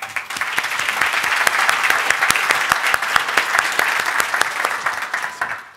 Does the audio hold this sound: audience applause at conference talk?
yes